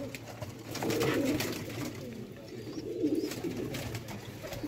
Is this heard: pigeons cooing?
yes